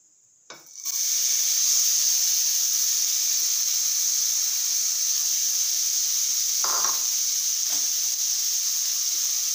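Carrots sauté in a spoonful of ghee inside a pressure cooker, a steady loud sizzling hiss starting abruptly and running on with a couple of brief stirring clatters.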